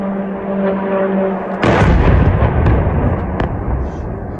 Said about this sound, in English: Russia unleashed a ballistic missile and drone strike